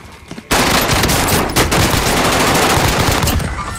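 A video game gun fires a sustained, loud automatic burst that starts abruptly and rattles on without pause for several seconds.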